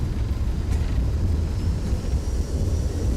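Thrust reversers of a Toliss A321neo landing in X-Plane 12, a steady loud low roar and rumble of engine noise holding through the whole stretch with no voices.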